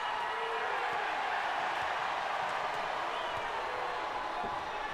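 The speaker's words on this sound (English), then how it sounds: "And now the crowd comes alive again" An arena crowd at a Rio 2016 Paralympic wheelchair basketball game fills the hall with a steady, distant roar of cheering and murmuring, faint clapping mixed in and nothing else standing out.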